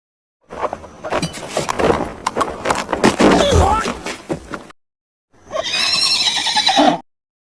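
A horse whinnies loudly up close in a scene from the film The Mask of Zorro, a long shrill neigh, then after a short silence a second quavering whinny.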